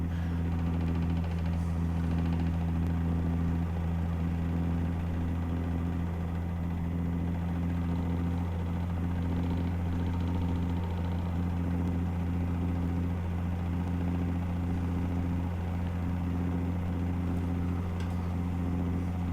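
A truck engine in American Truck Simulator drones steadily in 7th gear around 1600 RPM, a constant low hum with faint rumble that holds unchanged throughout.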